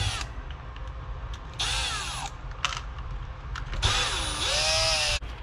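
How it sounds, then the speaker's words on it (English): A cordless power drill whirs in two long bursts, undoing the front screws on a Traxxas Bandit RC car during a conversion to a Rustler, with the motor pitch rising and falling as each screw backs out; short clicks and pauses between runs. "undo these screws in the front"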